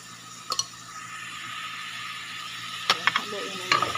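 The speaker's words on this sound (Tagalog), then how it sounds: "Haluin na natin." Alugbati and shrimp sizzle steadily in a hot pan while a utensil stirs, giving a few sharp scraping clicks against the pan at the start and again near the end.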